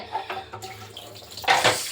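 Water is drained from soaked chickpeas, trickling and splashing in short uneven bursts close by. A louder gush comes near the end, with a low hum underneath.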